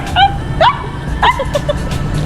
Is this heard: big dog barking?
yes